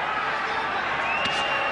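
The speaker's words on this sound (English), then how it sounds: "Crowd enjoying this one." Crowd noise at a professional boxing match at the Mandalay Bay in Las Vegas, Erik Morales vs Paulie Ayala in 2002: a steady, dense arena roar of cheering spectators that swells briefly near the end.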